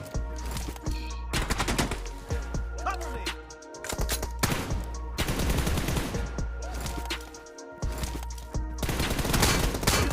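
Rapid bursts of automatic gunfire in a video game 1v1 TDM match, loud, close and dense, with short pauses between volleys and steady game ambience underneath.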